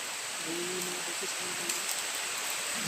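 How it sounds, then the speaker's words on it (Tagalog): Steady, even rain hiss fills the clip, with a faint voice murmuring briefly underneath. "Kasi yung ulan ba? Nakasama ng camera dito."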